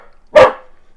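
A single loud, close dog bark rings out sharply and fades quickly against near silence.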